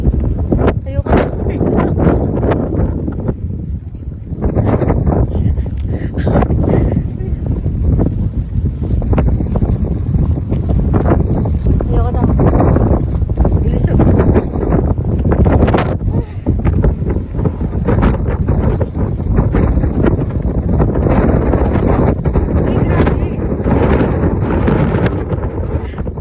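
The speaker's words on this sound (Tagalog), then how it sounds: "diba ang lakas ng hangin." Strong wind blows outdoors on a street, loudly buffeting the microphone in rough, uneven gusts for the whole stretch.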